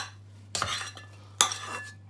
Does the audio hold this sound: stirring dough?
yes